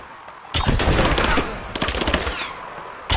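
Automatic gunfire in Rise of the Tomb Raider, survivor mode: a loud, close rapid burst of shots lasting about a second, followed by scattered further shots and a final sharp report, with no talking.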